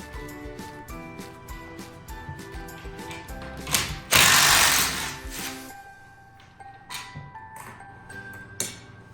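Hand ratchet with a 13mm socket loosening bolts on a Ford F350 seat during a seat cover install, steady rapid clicking bursts nearby, with a louder rushing scrape in the middle and a few sharp knocks.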